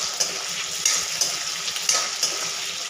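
Unpeeled potato pieces frying in a pan for vegetable pulao, a continuous close sizzle with a spatula stirring and scraping in regular strokes.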